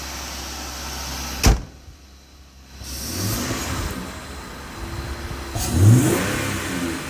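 A 2019 RAM Rebel truck engine fitted with a K&N cold air intake revs up from idle, with a sharp knock near the start and a rising, breathy intake roar later, heard fairly close.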